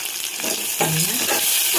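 Lentils fry in hot oil for a tempering, crackling and sizzling up close while a spoon stirs them around the pan.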